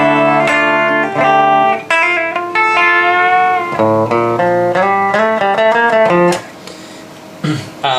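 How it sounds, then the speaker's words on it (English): Clean electric guitar playing bright, ringing chords and single notes, strummed and picked in short phrases, fairly loud and close, with no voices. "So yeah, that's the clean tone"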